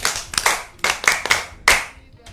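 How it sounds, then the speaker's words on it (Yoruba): Schoolchildren clap for their teachers in repeated short bursts of hand claps, loud and near, falling into a rough rhythmic pattern with brief pauses between rounds. "Ẹ àtẹ́wọ́ olùkọ́ nù, ẹ pàtẹ́wọ́ fáwọn olùkọ́ yín"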